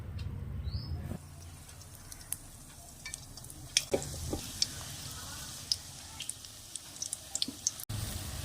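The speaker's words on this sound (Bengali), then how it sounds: "এইভাবে সবগুলো ভেজে নেব।" Puris frying in hot oil for bhel puri: a soft, steady bubbling sizzle with scattered crackles and pops, fairly quiet and close, with a louder hiss at the very start and no talking.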